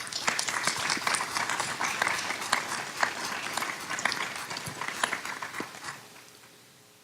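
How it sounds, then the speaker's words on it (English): Steady audience applause at a press conference on 911 texting, dense clapping filling the room for about six seconds before tapering off near the end. "give them a round of applause"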